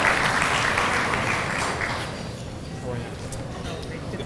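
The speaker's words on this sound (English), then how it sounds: "A round of applause, please, for Director Shute-Woodson" Audience applause for Director Angela Shute-Woodson at the Cleveland International Hall of Fame ceremony, a dense wash of clapping that stays loud for a couple of seconds and then fades to a softer patter, with some talk mixed in.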